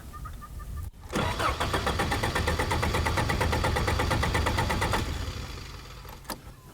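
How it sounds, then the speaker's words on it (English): A car engine cranks and catches, then runs at a steady, close rumble for several seconds before easing off, after earlier trouble starting. "Luckily it started there. So why? My car won't start."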